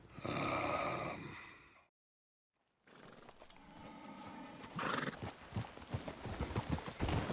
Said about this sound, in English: Please, control that horse.